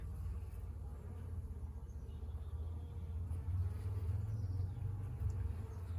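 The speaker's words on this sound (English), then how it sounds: "It's a lot of bees." Honeybees crowd an open hive during an inspection, a low, dense, continuous buzzing hum close by that swells slightly midway, with no talking.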